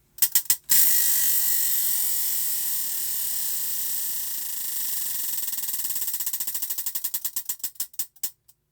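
A clicking spinning wheel is spun to choose the next crochet stitch. A fast, dense ratchet of clicks gradually slows into separate ticks before stopping, loud and close, with no talking.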